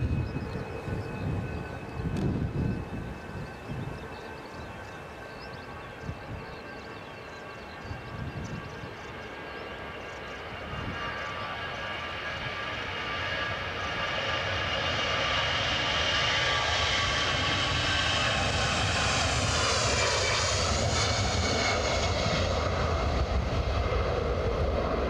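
An airliner on final approach to Edinburgh Airport swells from a distant rumble into a steady, loud jet roar with a rising whine, heard alone without talk.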